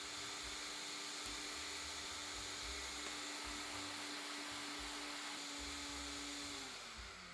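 A blender motor whirs steadily while blending oats for cottage cheese pancakes, a loud continuous drone with a steady tone and a low rhythmic thumping as the jar is shaken, tapering slightly at the end.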